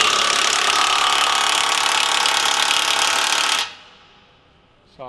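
Hilti SIW 9 A22 3/4-inch cordless impact wrench tightening a large bolt, a loud continuous rapid hammering rattle for several seconds that stops abruptly, followed by near quiet and a brief noise.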